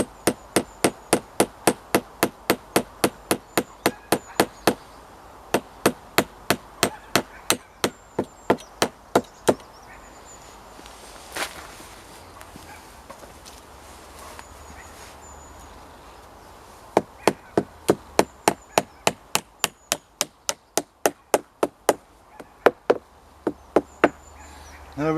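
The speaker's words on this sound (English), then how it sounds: "hammering the screws in to fix it together" Screws are hammered into timber to build a new garden bed on an allotment outdoors: fast, evenly spaced sharp taps in two long runs separated by a quieter pause, fairly close with no talk.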